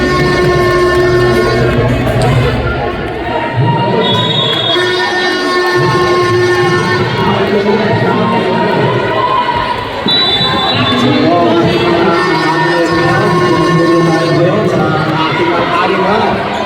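Parents shouting and cheering loudly at a youth basketball finals game in the Philippines, a dense continuous crowd roar with sharp yelling and ball bounces, loud and close throughout.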